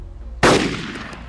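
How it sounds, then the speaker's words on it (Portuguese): A single loud M24 sniper rifle shot in the video game DayZ, a sharp close crack that decays into a fading rumble and echo. "Tem alguém aqui que tá escutando eu dando tiro com a minha M24"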